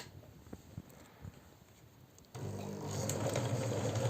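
A sewing machine starts up to wind its bobbin, quiet clicks and handling first, then a steady motor whir that continues to the end.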